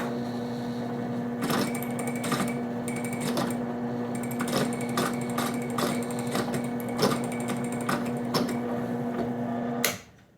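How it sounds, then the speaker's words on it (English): A 5/32 inch drill bit drills out a pin on a Spyderco folding knife, giving a steady whirring motor drone with repeated clicking and rattling bursts, then stopping abruptly near the end. "going to just go to a standard drill bit on this. This one is a 5/32 inch."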